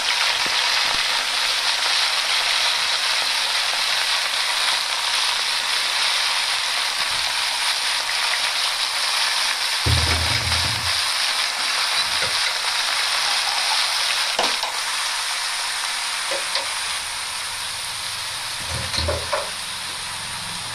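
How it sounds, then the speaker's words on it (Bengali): Chopped spinach hits hot oil in a pan and sizzles with a steady, loud hiss, joined later by a few clattering stirs and scrapes. No one speaks. "এবার কেটে রাখা পালং শাকগুলো তেলের মধ্যে দিয়ে দেব।"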